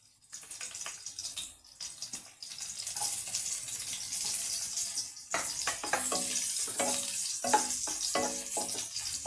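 Garlic sizzles in hot oil in a pan with steady frying crackle, broken by clinks and scrapes of stirring and a short water-like pause near the middle.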